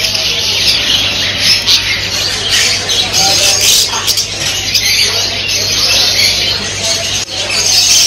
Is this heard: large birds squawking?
yes